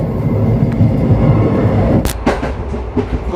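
The 11098 Poorna Express runs along the Konkan railway from Kerala to Goa with a loud, steady rumble of wheels and carriages, joined by a few sharp clacks and bursts of track noise toward the end.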